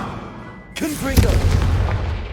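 The Confringo blast spell going off in a wizarding video game, a sudden booming burst with a swooping whoosh that rolls into a rumbling, crackling tail.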